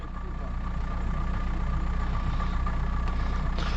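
A DT-75 crawler tractor's diesel engine idles loudly and steadily after a long break, a deep continuous rumble with the throttle eased up and down, close and alone throughout.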